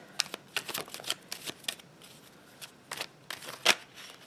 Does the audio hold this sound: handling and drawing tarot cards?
yes